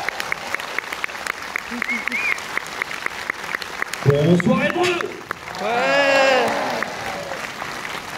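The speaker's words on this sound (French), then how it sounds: "Je vous demande de l'applaudir" A film premiere audience gives scattered, rhythmic clapping, then a brief louder burst as people talk and cheer over it.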